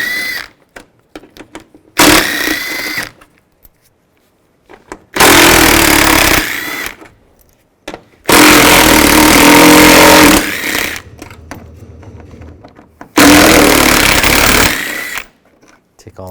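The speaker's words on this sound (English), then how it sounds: "going to take these bolts out. You're going to use a 10mm socket." A power tool with a 10mm socket removes headlight bolts on a 2007-13 Chevy Avalanche in four loud close bursts of whirring and rattling, separated by quiet gaps.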